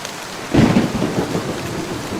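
Cartoon storm effect of a sudden loud thunder crack rolling over steady rain pattering on surfaces, with no voices.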